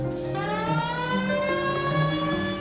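A police car siren in the video game L.A. Noire wails loud and continuous, its rising and falling tone sustained throughout with no talk over it.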